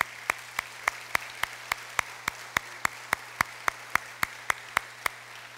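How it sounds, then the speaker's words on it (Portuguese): Rhythmic applause for the women at a church service, a steady, evenly spaced series of claps, about three per second, over a low background hum. "uma salva de palmas para as mulheres"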